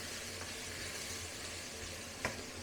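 Merguez sausages sizzle and fry steadily in a pan, a constant close crackle with no talk over it.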